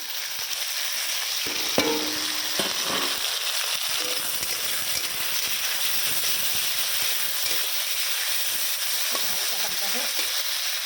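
Tomato and green chili sizzle steadily in hot garlic-infused oil in a pan, a constant bright frying hiss broken by a few clinks and stirring knocks, close up.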